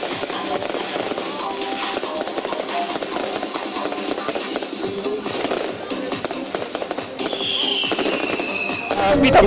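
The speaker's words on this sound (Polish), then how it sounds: "Jak się podobały fajerwerki?" Fireworks crackle and pop at a New Year's Eve celebration. The continuous crackling bursts mix with crowd noise and people talking nearby, and a louder whistle-like burst comes near the end.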